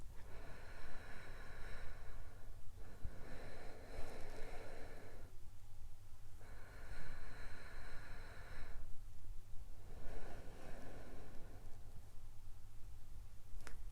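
Slow, deep yoga breaths come in long, even waves, each inhale and exhale lasting a few seconds, over a low steady hum, close and quiet with no talking.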